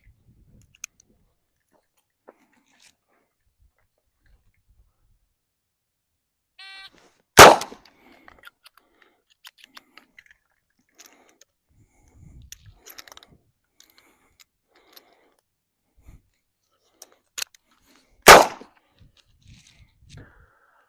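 A revolver is reloaded with a speed loader, then fired: small scattered metallic clicks and rattles between two sharp, loud gunshots, one near the middle and one near the end, with no talk.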